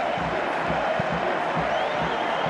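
A football stadium crowd roars and applauds after a Levski Sofia goal, a steady dense wall of cheering heard from within the stands.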